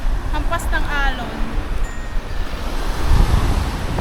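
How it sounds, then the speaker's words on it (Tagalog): Strong sea waves surging along a shore where two boats lie wrecked, with wind rushing across the microphone; a steady, fairly loud roar with a heavier wash near the end, as people talk faintly in the background. "Malakas ang alon ngayon."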